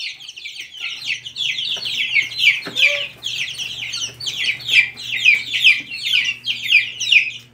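A flock of 14-day-old naked-neck chicks keeps up a dense, steady chorus of high peeps and soft clucks close by, with no talking.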